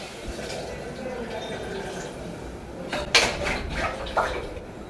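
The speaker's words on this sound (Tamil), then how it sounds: "இதில் தண்ணி ஊற்றிக்கலாம்" Water is poured into a pot of white chickpea and drumstick curry seasoned with Kashmiri chili powder, a soft liquid rush with a few metallic clinks of the pot and utensils.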